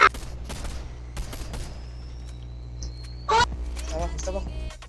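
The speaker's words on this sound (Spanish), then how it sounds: "Escopeta." Shotgun blasts in the Fortnite video game: a few sharp broadband bangs spaced irregularly, the last one loudest, with a player talking in between.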